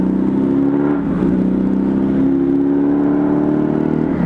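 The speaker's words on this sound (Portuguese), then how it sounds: "A tiazinha vem que vem acelerando forte." A car accelerating hard on a wet road in São Paulo, a loud steady engine whir with rising revs held throughout, alone with no talk.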